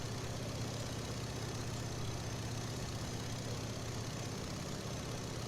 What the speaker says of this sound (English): this engine, the gravity-fed fuel system, will mean that the engine will tend to suffer from fuel starvation